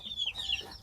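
Chickens clucking in a farmyard among cattle, several brief high calls overlapping in a short burst, fairly close with faint background noise.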